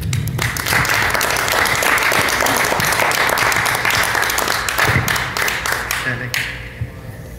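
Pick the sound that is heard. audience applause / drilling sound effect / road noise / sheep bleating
audience applause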